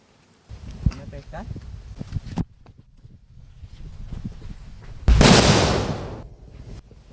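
A sutli bomb firecracker goes off during Diwali celebrations, one loud sharp blast that trails off over about a second, after quieter rustling and handling noises.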